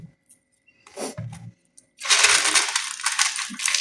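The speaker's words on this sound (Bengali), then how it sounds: "আমি আলুগুলো ভেঙে ভেঙে দিচ্ছি। আওয়াজ হয়তো আপনারা শুনতেই পাচ্ছেন কতটা ক্রিস্পি হয়েছে খেতে।" Crispy fried potatoes are broken apart, with a few light taps and clatters at first, then a loud, dense, continuous crackling crunch that holds to the end. No voices.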